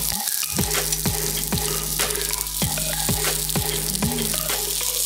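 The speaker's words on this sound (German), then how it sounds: "Jetzt müssen wir das rundherum anbraten." Saddle of venison wrapped in pastry sears in a hot pan, a steady close sizzle with repeated soft clicks and scrapes as it is turned, and no talking.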